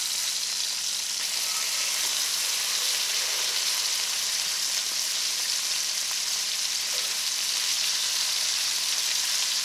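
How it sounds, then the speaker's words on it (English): Maple glazed pork chops browning in butter in a pan, a loud, constant close-up sizzle like dense hiss and crackle, steady throughout with no talk. "And our goal here is just to brown both sides. And that butter adds a nice flavor."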